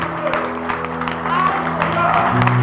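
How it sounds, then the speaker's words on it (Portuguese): A church congregation claps during an evening worship service, a busy patter of hands beneath a dominant voice speaking over it, growing slightly fuller toward the end. "Aplauda o nome do Senhor."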